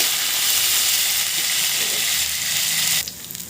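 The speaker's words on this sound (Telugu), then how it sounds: "మిరపకాయలు బాగా వేగాలి" Green chillies fry in a pan for a rustic-style okra chutney, giving a loud, close, steady hiss of sizzling oil for about three seconds before it drops to quieter, broken crackles.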